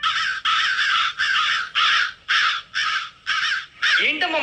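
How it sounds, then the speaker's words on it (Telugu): A flock of crows caws loudly in front of a house, harsh calls coming in steady repeated bursts, close and clear, one after another. "ఏంటమ్మా మన ఇంటి ముందు ఇన్ని కాకులు వస్తున్నాయి?"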